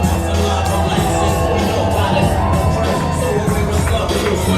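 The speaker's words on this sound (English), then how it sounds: "He's got a big crowd here tonight." A big crowd at a live boxing event at Rosecroft Raceway cheers and shouts in a loud, continuous roar of voices, close and dense throughout.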